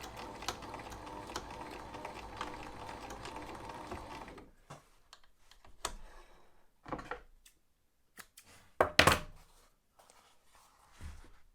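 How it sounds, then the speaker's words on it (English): A Husqvarna 2000 (21e) sewing machine zigzag-stitches through nylon basting webbing and four layers of denim. A fast, even mechanical stitching rattle runs for about four seconds, then stops, leaving scattered clicks and handling knocks. "that's having no problem putting that zigzag stitch through that nylon basting webbing and 4 layers of denim"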